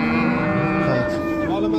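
A cow at a busy livestock market gives one long, loud, close moo that holds for nearly two seconds, with no talk over it.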